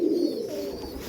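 A male Andhra Fulsira pigeon coos close by in a low, throaty, continuous call, with faint background hiss.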